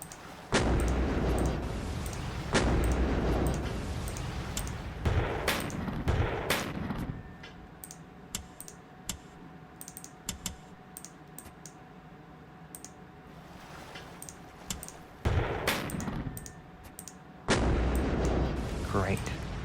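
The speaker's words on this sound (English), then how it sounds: "but first let us fire at their tanks" A battleship in a strategy video game fires at tanks: heavy booming artillery blasts come in repeated bursts with crackling impacts, some shots overlapping, and quieter game ambience between the salvos.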